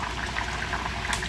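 Leftover soup reheating in a pot on the stove, giving a steady low bubbling simmer with a soft hiss throughout and a brief brighter splash near the end, no voices.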